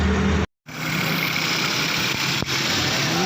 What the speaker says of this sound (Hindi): गाड़ी स्टार्ट है